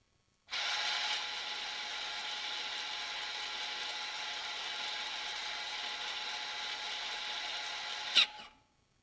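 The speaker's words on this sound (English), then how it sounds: "we should hear the rear parking brake actuators fully release and retract" Electronic rear parking brake actuators on a vehicle release and retract back through the caliper, a steady close motor whir running about eight seconds, ending in a brief louder clunk as it stops; no speech.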